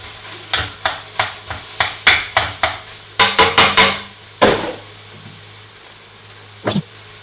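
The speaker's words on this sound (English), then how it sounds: "Fry your mince until it's browned all over." Minced meat sizzling in a frying pan while being stirred and broken up, a series of sharp scraping and tapping strokes in a quick uneven rhythm over a soft continuous fry, loud and close.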